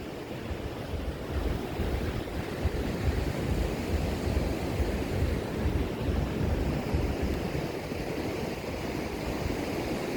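Ocean surf rolls in continuously at night by the shore in Da Nang, Vietnam, a dense steady wash of breaking waves with gusts of wind buffeting the microphone and no talking.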